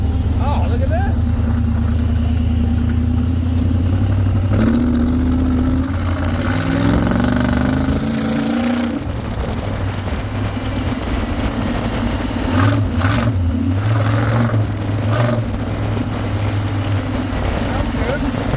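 A newly installed engine in a buggy runs and revs while driving down a small road, a steady mid-low engine drone with rising and falling rev sweeps, people talking over it.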